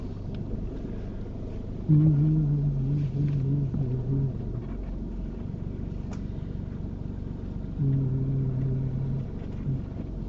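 A learner driver's car pulls away from the curb during a driving lesson, its engine rumbling low and steady. It rises noticeably around two seconds in and again near eight seconds, with wind buffeting the microphone throughout.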